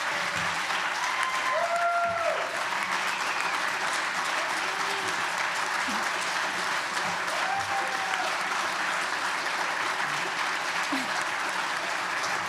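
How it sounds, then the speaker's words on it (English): Sustained applause from a crowd, steady and dense throughout, with a few faint tonal sounds and stray voices mixed in. "let's give them a round of applause"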